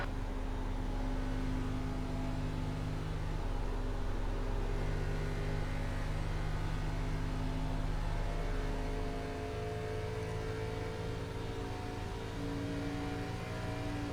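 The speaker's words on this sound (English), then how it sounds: "We got a car coming up behind us." An ARCA Menards Chevrolet Impala race car at Texas Motor Speedway holds a loud, steady engine drone at speed, and the pitch steps down partway through, with no talking.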